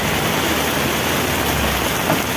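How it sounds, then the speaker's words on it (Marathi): Heavy rain pours steadily over the Thane station market area, a dense continuous hiss with no voices. "आता तुम्ही बघू शकता केवढा पाऊस आलेला आहे"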